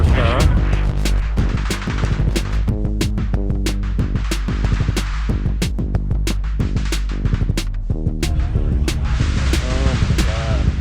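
A 1969 Pontiac GTO making about 1,000 horsepower revs hard and loud, its rough throbbing roar broken by repeated sharp cracks and pops that sound almost like gunfire.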